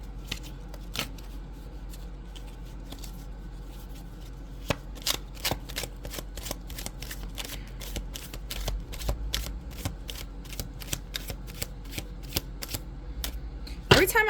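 Rapid, crisp riffling of playing cards, a quick fast shuffle with sharp repeated snaps, fairly close and clear against a quiet background.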